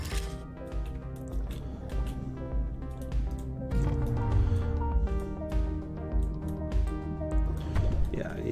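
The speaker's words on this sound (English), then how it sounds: "Splashing water." Splashing water in the underwater game Dave the Diver, dripping, sloshing liquid sounds over game music, with someone talking throughout.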